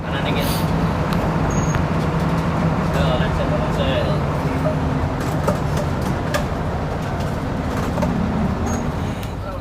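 A Hino bus on the road from Jakarta to Kuningan keeps up a steady engine drone with road rumble, plus occasional brief hisses and clicks, while a voice talks over it.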